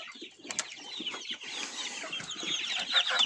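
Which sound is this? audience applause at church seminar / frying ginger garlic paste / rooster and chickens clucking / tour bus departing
rooster and chickens clucking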